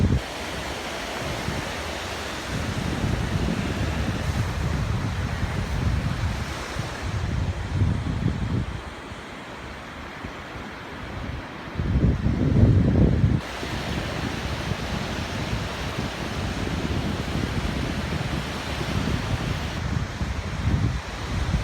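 Surf rolls onto the wide beach at Hat Nam Sai in Sattahip, Thailand, a steady wash of breaking waves with louder surges that swell and fade, mixed with wind over the microphone and no voices.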